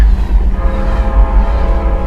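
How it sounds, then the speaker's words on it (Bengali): A train whistle sounds from far off, a faint drawn-out tone riding over a steady low rail rumble. "ট্রেনের হুইসেল শোনা গেল আবার"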